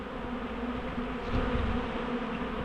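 A swarm of honeybees fills the air around hives with a steady, dense buzzing drone, close and continuous throughout, with no talking.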